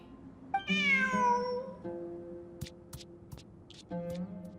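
A cat in the Genshin Impact video game, set in the Sumeru desert, gives a clear drawn-out meow and then a second shorter one, loud and close against a steady background hum and faint ticking.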